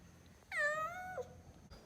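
An injured cat gives a single drawn-out meow, clear but fairly quiet over a faint background hum.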